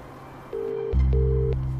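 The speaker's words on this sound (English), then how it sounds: "He picked up his phone from top of the dash, punched out 14 digits and held the phone close to his ear." Phone tones come in steady beeps and then a sustained tone with a low hum beneath, clear and close, playing alone without any voices.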